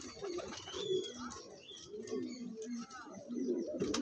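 A male pigeon at a pigeon market in Bagnan, repeating soft, deep cooing phrases close by, with quiet murmuring voices and faint chirps behind.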